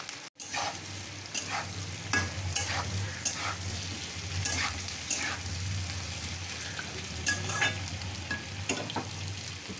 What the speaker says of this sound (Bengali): এবার আমি কেটে রাখা আলুগুলো দিয়ে দেবো।